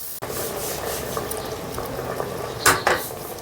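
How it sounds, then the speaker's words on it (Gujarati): Milk goes into a hot pan of browned ghee, giving a soft, continuous bubbling hiss with scraping stirs and a couple of sharper utensil clatters near the end, close and moderately quiet. "દૂધ નાખશું."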